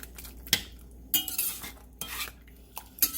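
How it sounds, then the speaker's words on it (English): A spoon stirs brown sugar into a pot of spaghetti sauce, giving several sharp scraping clinks against the pot at irregular intervals, with quiet pauses between them, close and fairly soft. "Everything is stirred in."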